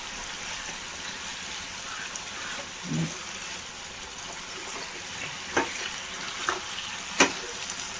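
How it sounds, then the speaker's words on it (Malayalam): Fried chicken being tossed in sauce in a pan for a dry roast, a soft continuous sizzle with occasional sharp taps and scrapes of a spoon against the pan, fairly quiet and close. "ഫ്രൈ ചെയ്ത് വെച്ചിരിക്കുന്ന ചിക്കൻ കുറച്ച് കുറച്ചായിട്ട് എനിക്ക് കൊടുക്കാം നന്നായി ഒന്ന് ഇളക്കി കൊടുക്കാം"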